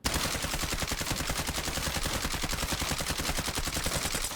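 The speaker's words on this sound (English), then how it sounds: "I try and shoot a whole mag so you guys can get an idea" Sustained burst of rapid automatic fire from a CR-56 AMAX assault rifle in Call of Duty Warzone, a full magazine emptied in one dense, loud, evenly spaced stream of shots with no talking.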